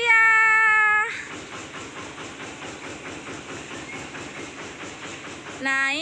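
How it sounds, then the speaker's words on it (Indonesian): A tourist train at a deer park sounds a horn, then rolls past with a steady rhythmic clatter of wheels on rails, and the horn returns at the end. "Kami mau naik kereta api guys"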